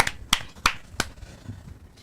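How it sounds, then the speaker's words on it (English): Hands clap sharply right beside the microphone at a live club cricket match, three or four crisp, evenly spaced claps that fade into quiet outdoor background. "goodness knows why you're clapping there in the mic"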